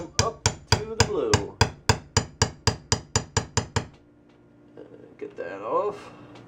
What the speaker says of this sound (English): I'm going to take this and hammer it until I come up to the blue.